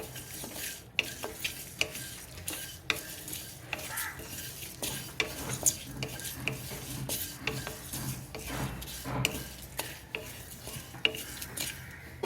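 Cumin, panch phoron, dried chili and fennel frying in a pan for jujube pickle, with a steady low sizzle and repeated scraping, clinking stirs of a utensil throughout.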